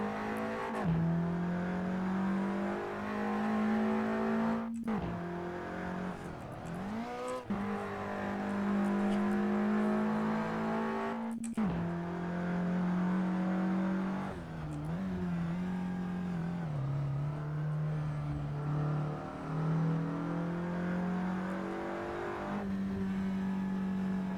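A stock 310-horsepower Audi S3 in Assetto Corsa on the Nordschleife revs hard through the gears, a steady droning engine note broken by sharp shift cuts and dips, loud and continuous with no talk.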